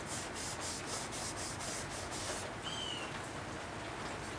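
Steady abrasive rubbing of a Scotch-Brite pad on wood, rhythmic back-and-forth strokes at first, then a continuous scrubbing hiss, close up with no voices.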